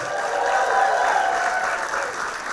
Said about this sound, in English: How about a round of applause for Marie?